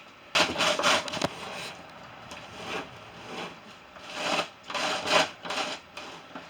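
A hand-cranked ice cream maker being turned for keto pumpkin cheesecake ice cream, giving bursts of rough grinding and rasping in uneven spells, fairly close with quieter gaps between turns.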